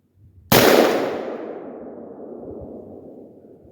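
A single sharp AR-15 rifle report fired one-handed at a range, loud and close, with a long decaying echo trailing off over several seconds; no talking.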